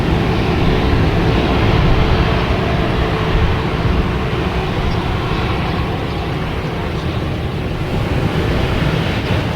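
A passenger jet rumbles steadily at Boston Logan Airport, a loud, broad roar of engines taxiing or passing overhead that holds constant throughout with a windy, washing texture and no talking.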